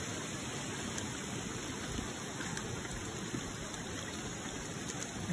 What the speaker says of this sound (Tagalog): Ang ganda ng batis.